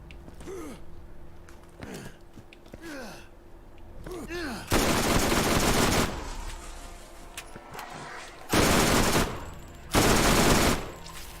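Gunfire in Borderlands: after softer sweeping game sounds, loud sustained bursts of shooting come in three separate blocks, each lasting about a second, close and heavy.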